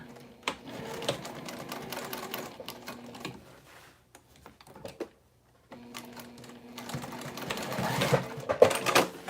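A sewing machine runs in fast bursts of rapid stitching on a crossbody bag, pausing briefly in the middle before starting up again close and steady.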